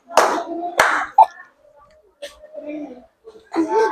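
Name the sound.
children clapping hands twice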